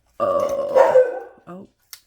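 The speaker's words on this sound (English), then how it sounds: "sorry, my dog's gonna bark." A pet dog barks indoors, a couple of close, loud rough barks with a growly burp-like edge, followed by a short trailing yip, with no talk over it.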